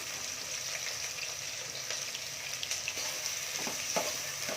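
Sliced onions frying in oil in a pan for chicken 65 biryani, giving a soft continuous sizzle with a few faint stirring scrapes, fairly quiet and close, no voices.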